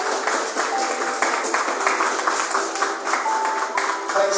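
A church congregation claps for Jesus during a sermon, a steady mass of clapping hands in a reverberant hall, with a faint sustained tone and some voices beneath.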